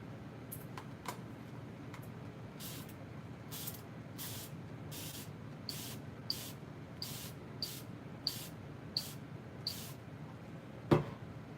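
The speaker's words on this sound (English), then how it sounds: "I'm actually gonna spray my palette too." A hand spray bottle mists water onto a watercolor palette in a quiet room, a dozen or so short, crisp hissing spritzes at a roughly regular rhythm, close by, with a faint clack near the end.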